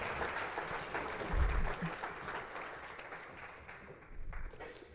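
Audience applause at a panel event on carbon transitions, welcoming guests back to the stage; steady clapping from a crowd throughout, swelling briefly near the start and again toward the end.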